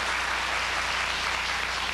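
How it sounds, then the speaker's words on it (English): Audience applause in a studio, a steady, even wash of many hands clapping, moderately distant and uninterrupted for the whole stretch with no voices over it. "you're stepping on my applause"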